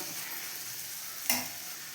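Shallots and onions stir-fried in a pan, a steady sizzle with a sharp scrape of the spatula stirring partway through, close and alone.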